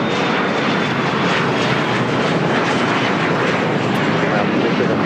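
A Polar Air Boeing 747-8 takes off from runway 25 left at LAX, its engines a loud, steady broadband roar that holds constant throughout.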